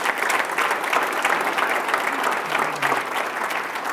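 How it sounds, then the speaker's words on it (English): A civic audience at a State of the City address gives sustained, loud applause for fire department staff, a dense, even wash of clapping throughout. "I think we should give them a round of applause"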